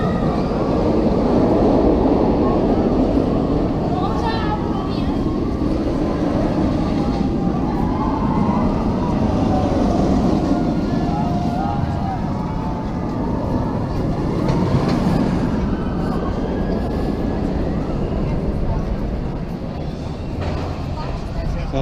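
A roller coaster train on Shambhala at PortAventura roars past in a continuous loud rumble, with trains following one another, over constant crowd chatter and voices.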